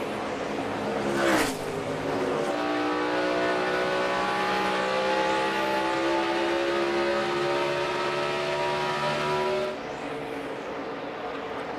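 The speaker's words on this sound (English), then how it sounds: "barely back in front of Martin Truex Jr. as we've just crossed halfway in the Ford EcoBoost 400, the final race of the season for the NASCAR Sprint Cup Series" NASCAR Sprint Cup stock cars race through the 2012 Ford EcoBoost 400 at the season finale, a loud steady engine drone with a car passing fast early on and a sustained high engine pitch throughout, without talking.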